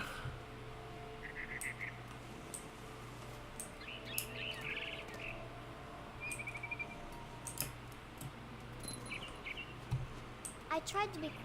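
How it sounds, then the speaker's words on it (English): Faint, scattered chirps from a barn swallow in the video game What Remains of Edith Finch come through in short bursts. They sit over a quiet ambient background with light clicks. "I heard chirping outside my window. It was a barn swallow going back to her nest."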